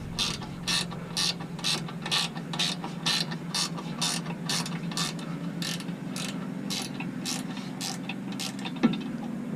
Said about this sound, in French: c'est quand même beaucoup plus facile forcément avec le cliquet